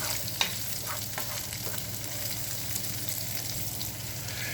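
Onion softens in a hot pan for cashew chicken, giving a continuous, even sizzle with light stirring scrapes and one small clink, close and steady with no talking.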